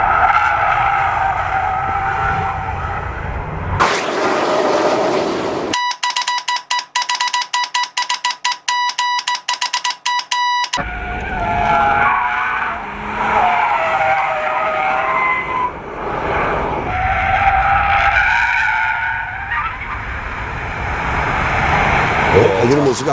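Kia K5 T-GDI family sedan with stiffened suspension lapping a track, engine roaring and tyres squealing as it corners hard, the loud run broken mid-way by a few seconds of a separate tonal chime-like passage before the car noise resumes.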